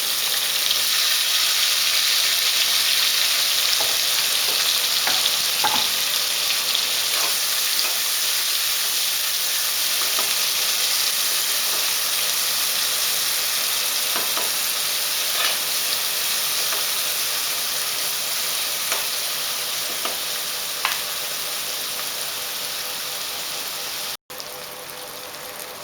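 Chopped onions and tomato sizzle and fry steadily in a pan while being cooked for a sprouts and paneer pepper masala gravy, a dense continuous hiss with occasional faint pops and stirring clicks, close and alone.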